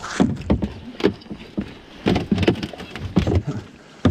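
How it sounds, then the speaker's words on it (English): Irregular cracking and crunching bursts as a kayak pushes through thin ice in the Pacific Northwest in early December, with sharp snaps and sloshing water close by. "Hear all the ice breaking."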